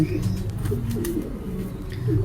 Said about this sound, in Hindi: नाज़रीन, अभी हम कबूतर दिखा रहे हैं आपको जनाब